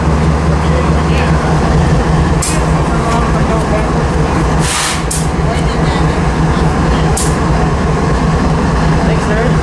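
Locomotive 8143 idles on auto start at a rail depot, giving a loud, constant low engine rumble with a steady hum. A few sharp hissing bursts rise above it. No one speaks.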